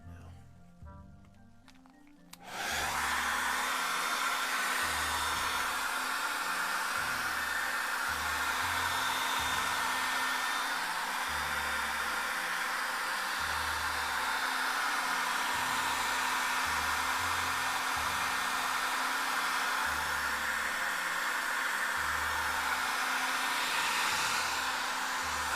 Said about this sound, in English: Okay, so let's blow dry that.